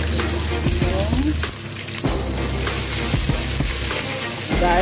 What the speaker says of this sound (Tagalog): Tapos, dito na rin po natin igigisa